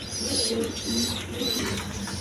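A pair of pigeons, one a Rajgolla, cooing in soft low warbling bursts at a farm, surrounded by steady ambient noise and faint higher bird calls.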